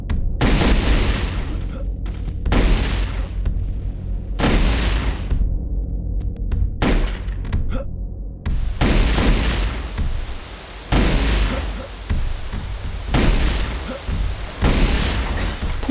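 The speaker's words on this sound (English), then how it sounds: "Plasma rifle." Plasma rifle in a competitive video game firing in repeated heavy bursts, loud booming blasts that come in separate volleys of a second or two with brief gaps between them.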